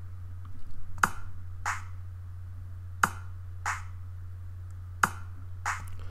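A drum beat built from kick and clap samples in a cop-themed pattern: sharp claps strike in pairs at a steady, evenly spaced rhythm over a constant low bass hum.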